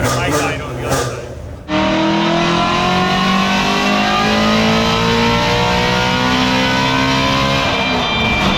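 A car on an all-wheel-drive dyno roars into a full-throttle pull after a brief lull, the engine note climbing steadily and loudly through the gears, close and sustained.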